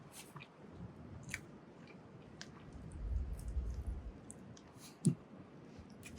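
Someone chews and eats a campfire meatball sub outdoors while camping, with soft, close, wet chewing and biting noises, faint clicks, and a brief sharper crunch near the end.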